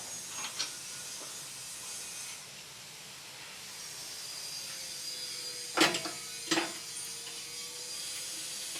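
A ratchet turns on the bolts of a rear bumper being fitted to a fifth-generation Toyota 4Runner. A few short clicking bursts come over a quiet hiss, with no voices.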